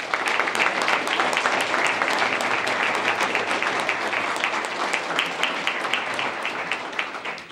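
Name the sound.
audience applause at awards ceremony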